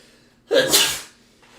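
A single sharp sneeze bursts out close by, one quick explosive burst with no talking over it.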